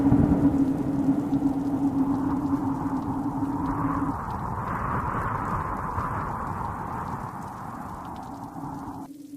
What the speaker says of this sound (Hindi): जोरदार बारिश हो गई